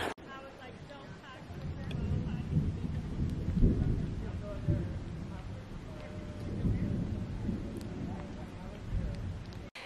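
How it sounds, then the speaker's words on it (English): Thunder rumbling over steady rain on a mountain hiking trail near Star Lake on the Tahoe Rim Trail, low continuous roll swelling and fading across the stretch, with a voice speaking briefly. "Hear that thunder?"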